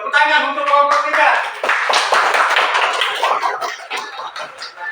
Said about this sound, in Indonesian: tepuk tangan untuk kelompok tiga